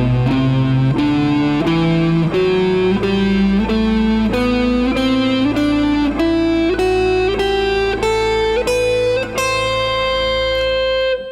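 An A Dorian scale played note by note on electric guitar with a distorted tone, steady ascending single notes about one per second, loud and close with no voices.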